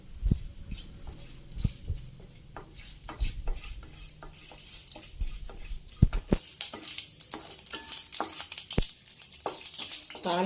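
Chana dal, cumin seeds and mustard seeds crackle and sizzle in hot oil for a tempering, with scattered sharp pops over a steady frying hiss that grows busier partway through.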